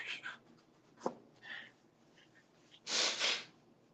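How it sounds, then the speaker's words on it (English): A person with a cold blows their nose close to the mic: a few soft sniffs and breaths, then a loud two-part honking blow near the end, in an otherwise quiet room. "I'm going to blow my nose"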